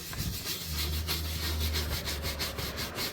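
Steady scrubbing of a dirty surface on a junkyard BMW, a continuous rough rubbing that runs close and fairly loud with a low rumble beneath and no speech.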